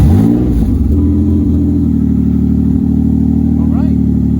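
A car engine runs steadily at close range after starting with a spare key, a low rumbling idle that revs briefly at the start and then settles into an even hum.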